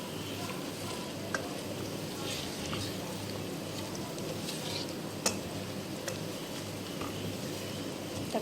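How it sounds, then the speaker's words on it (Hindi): Garam masala spices fry in a pan for chana dal, a soft, steady crackling sizzle with a low background hum and a few sharp clicks of utensils scattered through. "तकरीबन 1 मिनट के लिए हमने इसको भून लेना है, सारे गरम मसाले को इसके साथ।"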